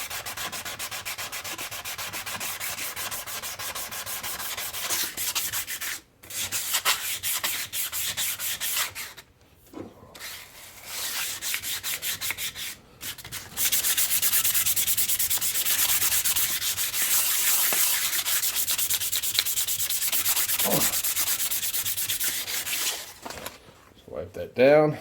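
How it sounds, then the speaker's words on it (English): Sandpaper wetted with diesel fuel scrubs a rusty Jones & Shipman 8-inch rotary table in steady, continuous rubbing strokes. The rasping is broken by a few brief pauses. "I'm using diesel fuel with the sandpaper, and it's cleaning up pretty good."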